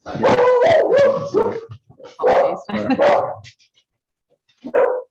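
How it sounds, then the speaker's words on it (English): A dog in a CGI studio office barks excitedly at an arrival: a run of loud, close barks over the first few seconds, a brief pause, then one more sharp bark near the end. "Our dog, the studio dog, someone's arrived."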